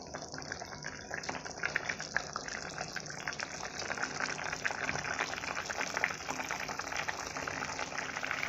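Potato curry with fried lentil dumplings boiling in a pan, a steady, dense bubbling and hissing simmer that stays close and even throughout, with no voices.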